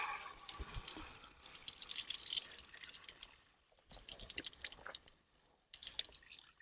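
Water drips and splashes from cupped hands as someone drinks outdoors, a soft, patchy trickle with brief gaps, close and fairly quiet.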